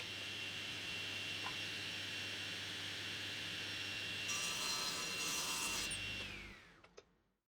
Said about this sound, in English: I was a little off, so I trimmed them on the table saw and I got them to fit much better.